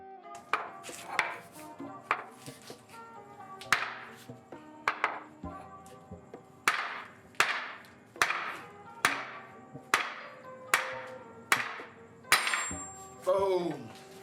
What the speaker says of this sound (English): It took quite a few swings with the sledgehammer to get it knocked off, but it'll eventually pop off.